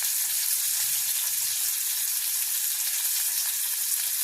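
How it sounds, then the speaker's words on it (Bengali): Capsicum and onion frying in oil as vinegar is added make a steady, bright hiss that stays moderately loud and even throughout, with no talking. "এবার এর মধ্যে আমি ভিনেগার দিয়ে দিচ্ছি"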